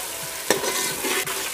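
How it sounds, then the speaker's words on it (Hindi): Finely chopped cabbage and mixed vegetables are stir-fried for vegetable pulao, giving a brief close sizzle with a sharp spatula scrape near the start and another faint scrape just before the end. "एक गोभी है हमारी, इसको भी हमने बारीक काटा है, इसको भी हम अच्छे से भूनेंगे।"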